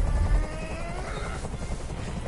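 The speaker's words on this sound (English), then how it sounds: "I can't stand that noise anymore! Tell that helicopter to get out of here!" A helicopter in the video game Detroit: Become Human drones steadily the whole time with a thick rotor rumble. It is loud and close, with a brief heavier thump at the start.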